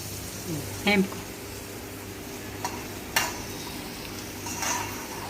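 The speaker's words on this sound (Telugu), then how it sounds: "శనగలు అయితే ఎగుతున్నాయి" Chickpeas frying in hot oil in a pan, a low steady sizzle with a few sharp pops and clicks, as a child cooks at the stove, with a brief voice near the start.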